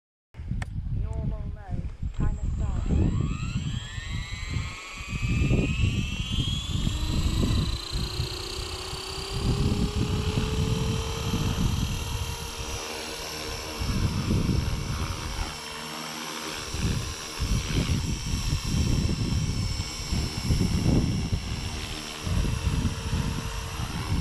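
A Blade 230s V2 RC helicopter spools up and hovers while lifting about 380 grams of rocks, its rotor whine rising in pitch and then holding a steady buzzing drone near by, with people talking over it.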